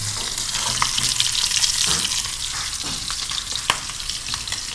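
Chicken fries in a pan for chicken kottu with a dense, continuous sizzle and occasional stirring scrapes, close and fairly loud throughout.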